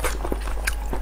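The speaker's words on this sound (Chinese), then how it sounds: "我再吃一口剩下的" Close, moist biting and chewing of spicy Chinese-style sheep brain, soft squishy mouth sounds in a short burst over a low steady hum, with no talking.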